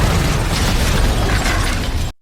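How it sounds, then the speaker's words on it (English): A movie explosion blows apart a flower shop: one loud, sustained roaring blast that fills about two seconds, then cuts off abruptly. "Resnick follows Robert into another shop and is blown up in a flower explosion."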